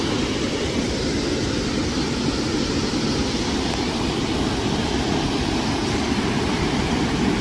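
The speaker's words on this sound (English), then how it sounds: "I can feel the vibration of the water from up here, but there's a water drain" Water rushing steadily through a drain beside a river in limestone country, a loud, unbroken broadband roar that holds at the same level throughout, with no voices.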